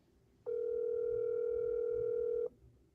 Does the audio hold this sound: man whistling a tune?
no